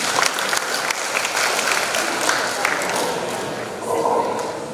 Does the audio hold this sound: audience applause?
yes